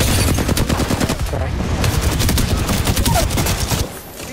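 Rapid automatic gunfire rattles through an Apex Legends firefight, dense overlapping bursts of shots that keep going for several seconds before easing off near the end, with a faint voice in the background.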